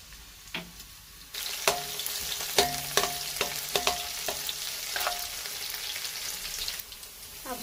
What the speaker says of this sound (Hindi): कढ़ाई में मैंने तेल डाल दिया है। तेल गर्म हो गया। अब हम इसमें डालेंगे लहसुन